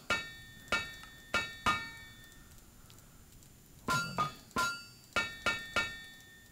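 A smith's hammer strikes metal on an anvil in TerraFirmaCraft, sharp ringing clanks in quick groups of three, pausing, then two more bursts of blows.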